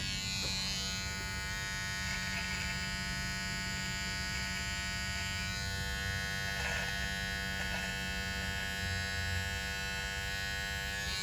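Electric beard trimmer buzzing steadily as it lines up the upper lip of a goatee, a close, continuous electric hum with slight shifts in pitch as the blade moves against the stubble.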